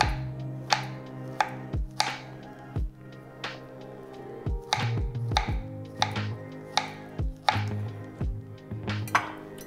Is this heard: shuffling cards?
no